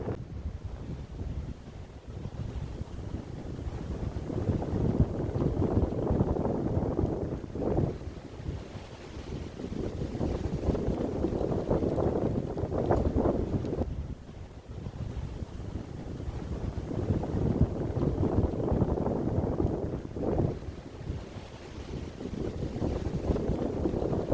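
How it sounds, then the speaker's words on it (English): Strong wind on a hilltop on the Miramar Peninsula in Wellington, New Zealand, roaring continuously across the microphone in rolling gusts that swell and ease every few seconds. "windy Wellington day"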